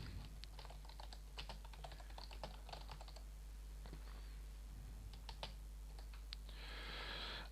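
A computer keyboard is typed on in quick bursts of close, crisp key clicks with short pauses between words, over a low steady background hum.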